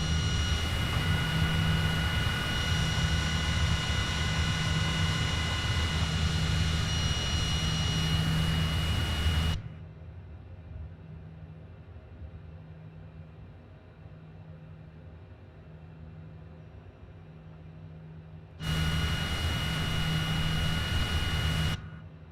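An aircraft engine in Microsoft Flight Simulator gives a steady, loud droning roar with a whining hum. It drops sharply to a quieter muffled rumble partway through, then returns to full strength near the end. No one speaks.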